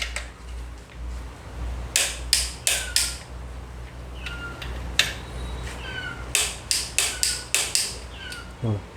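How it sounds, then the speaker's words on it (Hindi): Torque wrench clicking repeatedly while tightening bolts on a Cummins 24-valve engine during an overhaul, sharp ratchet-like clicks in clusters over a low steady background hum, close and fairly loud. "जब टॉर्क मारे हैं तो 18 किलो पे सेट करके 3 नंबर में पहले मारना है"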